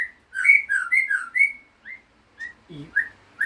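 A white-rumped shama sings a run of bright, warbling whistled phrases, close and clear, then a few shorter isolated notes after a brief pause.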